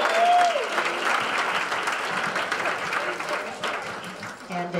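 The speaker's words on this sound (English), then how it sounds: "I think we should give them all a great round of applause." Applause from the audience at a community business awards ceremony, a steady wash of many hands clapping for nearly five seconds, with a few voices and cheers mixed in near the start and end.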